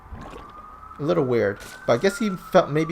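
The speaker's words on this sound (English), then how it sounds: "Oh, sorry for the siren at the background." A police or ambulance siren wails steadily somewhere in the background, a thin sustained tone running under a man's conversational speech.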